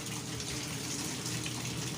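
Tap water running steadily into a basin during hand laundry, a soft continuous hiss and splash, fairly faint and close, with no voices over it.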